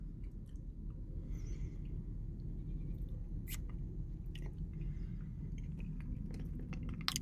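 Sheep and goats milling around a parked car by Son-Kul Lake in Kyrgyzstan, with a few faint, distant bleats over a low rumble and soft chewing or grazing noises.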